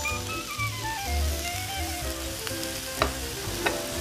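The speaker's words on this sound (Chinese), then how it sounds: "换红葱头下锅" Shallots fry in hot oil in a pan, a close, steady crackling sizzle with occasional sharp pops and stirring knocks.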